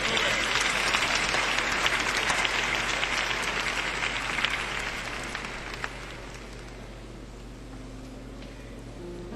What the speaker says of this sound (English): clap your hands and give the Lord some praise